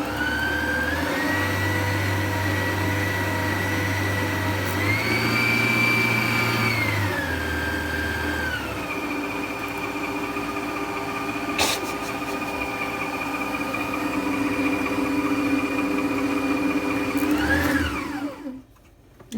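Electric hand mixer beating cake batter on low speed in a home kitchen, a steady close motor whine with a brief pitch rise midway, running continuously until it cuts off near the end.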